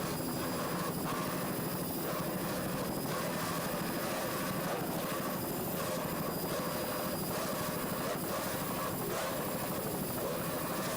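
A helicopter filming a powerboat race drones continuously with a steady, pulsing rotor chop, loud and close, with no talking.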